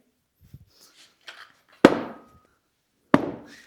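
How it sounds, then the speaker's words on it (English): Two sharp, loud thuds of bumper plates set down on the floor under a belt squat machine in a home gym, each with a short ringing decay, after a few faint small knocks and shuffles. "All you have to do is put some bumper plates right here."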